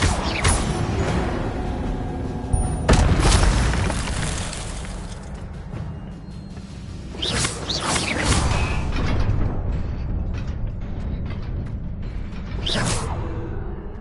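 Spell effects from Hogwarts Legacy gameplay, including the Incendio fire spell: several loud whooshing bursts and booming impacts over a continuous rumbling game backdrop.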